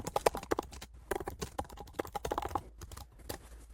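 Rapid clicking of keys on a computer keyboard, close and crisp, in uneven bursts with a few brief pauses between strokes.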